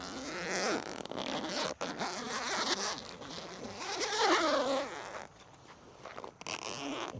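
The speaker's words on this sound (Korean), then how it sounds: "먼저 외부 가방의 지퍼를 개봉합니다" The zipper on the outer storage bag of an awning is pulled open in several long, rasping runs, close and clear, with short pauses between the pulls.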